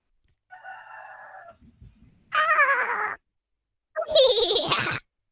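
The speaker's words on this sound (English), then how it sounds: "how loud and annoying is that rooster?" A rooster crows close and loud in two long, strained calls, preceded by a shorter, thinner animal call, with no talking over it.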